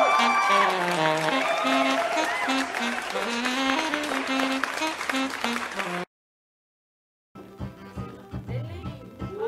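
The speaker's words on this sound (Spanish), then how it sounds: "Démosle un fuerte aplauso" Audience applause at a comedy show in a nightclub setting, loud clapping mixed with music and some voices, cut off abruptly partway before music resumes.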